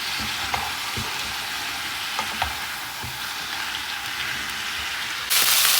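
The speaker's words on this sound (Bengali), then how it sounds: "এই যে দিয়ে দিছি চিংড়ি মাছ আর অনেকটা পরিমাণ ধনিয়া পাতা তেল দিয়ে এখন ভেজে" Shrimp and a generous handful of coriander leaves sizzle steadily in hot oil, a close, continuous frying hiss with occasional stirring clicks that flares louder near the end.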